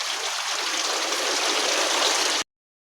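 Heavy rain pours down on a dairy farm, a dense, even rushing wash close by that runs steadily for a couple of seconds before cutting off abruptly.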